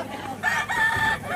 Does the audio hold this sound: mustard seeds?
no